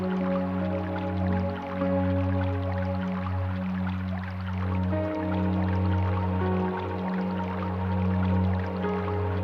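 A household salt waterfall trickles steadily, with continuous soft dripping and running water over a constant low hum, close and even throughout.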